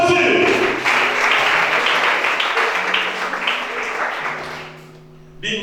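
A church congregation bursts into loud applause that carries on steadily for several seconds before thinning out, with voices audible beneath the clapping.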